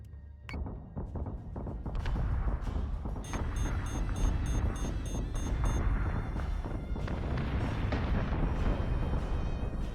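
Spaceship weapons fire in the space combat game Battlestar Galactica Deadlock: a dense, sustained barrage of booming blasts and rapid gunfire bursts, loud and continuous with electronic beeping tones layered above, no voices.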